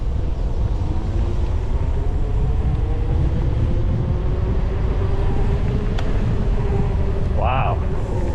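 A DelFast electric bike rides at full throttle, a steady loud rush of wind and road noise with a faint rising motor whine throughout, close to the rider, with a brief higher squeak near the end.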